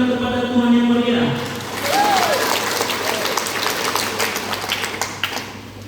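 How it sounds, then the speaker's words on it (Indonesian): A church congregation breaks into lively applause after a sustained tone fades, dense clapping carrying on for several seconds with voices mixed in. "Beri tepuk tangan kepada Tuhan yang meriah."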